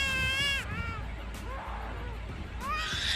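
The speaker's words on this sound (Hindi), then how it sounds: "Black collar starling. इस पक्षी की आवाज सुनने पर ऐसा लगेगा जैसे कोई छोटा बच्चा जोर जोर से रो रहा हो।" A black-collared starling gives loud, wailing calls like a crying baby, with a long rising and falling cry at the start and another beginning near the end over a steady low background rumble.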